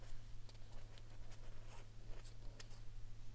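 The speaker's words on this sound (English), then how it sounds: "go ahead and draw your line again" A marker draws a line around a plastic Easter egg, giving soft scratchy squeaks and short strokes over a steady low hum, quiet and close, with no talking.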